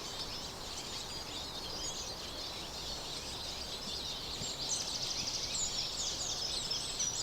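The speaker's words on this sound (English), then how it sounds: "the bird song here is intense" Dense birdsong along a fast-running river in Warminster: many overlapping chirps and calls, quiet and somewhat distant, over a steady broadband rush of flowing water.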